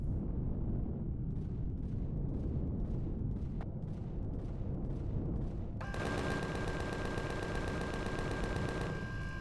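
Steady rapid fire from a 15mm gun aimed at sentry guns in the space survival game Empyrion, a regular train of sharp shots that turns into a denser, harsher metallic rattle partway through, with no talking.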